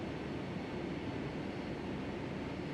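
A Boeing 757-300 pushing back from the gate in Flight Simulator X, with a constant low engine rumble and roar that holds even and unbroken, and no speech over it.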